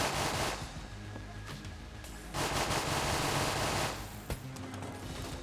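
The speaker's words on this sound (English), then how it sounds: "just shoot and spam reload. And then it creates this just basically infinite ammo beam of death." A weapon in the modded video game Enter the Gungeon fires a continuous infinite-ammo beam, a dense, rapid barrage of shots that surges and dips for several seconds without talking.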